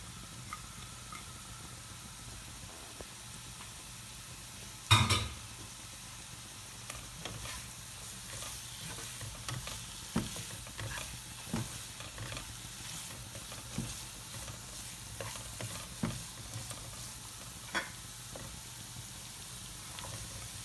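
Carrots stir-fry in a pan for a Pakistani-style Singaporean rice dish with a low, steady sizzle. A sharp clatter of utensil on pan comes early, then scattered light scrapes and taps as the vegetables are tossed. No one talks.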